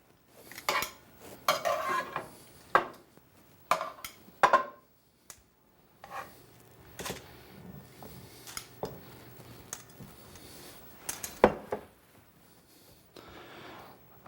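A cooking pot handled at the stove while draining cooked asparagus, with scattered clanks, metallic scrapes and clinks at moderate distance, irregular and fairly quiet, and no one talking.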